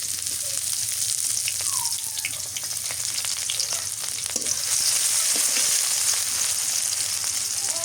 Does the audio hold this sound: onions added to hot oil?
yes